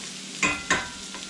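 Onions frying in a pan for chicken curry, stirred so they won't burn. Two quick scraping strokes rise over a soft, constant sizzle, close up with no voices.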